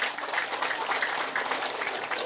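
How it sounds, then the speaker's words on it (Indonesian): A hall audience at a halal bihalal gathering claps steadily, dense overlapping applause filling the room at moderate loudness with no talk over it. "Tepuk tanganlah untuk kita semua,"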